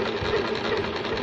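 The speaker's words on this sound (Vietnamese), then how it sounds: "Bấm nút bắt đầu may. Đây là tốc độ nhanh nhất của máy này." A Singer Merritt Libero sewing machine runs at its top speed, a rapid, steady mechanical chatter of needle strokes, close and even throughout with no talk.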